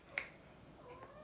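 A pet cat lets out a short, faint meow indoors, followed by a sharp tick near the start and a soft trailing mew later, with a quiet room behind it.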